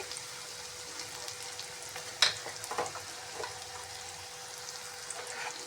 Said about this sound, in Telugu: కొద్దిగా వేగితే సరిపోయిద్ది